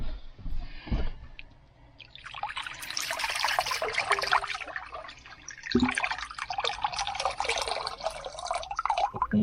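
Water from a full kettle pours into a basin for washing up, starting after a couple of brief knocks and running as a steady, splashing trickle that continues to the end.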